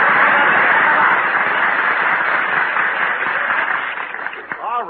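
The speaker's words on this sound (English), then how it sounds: "Applaud me, folks." A studio audience applauds loudly and steadily on a 1949 radio comedy show, a dense wash of clapping that tapers slightly near the end.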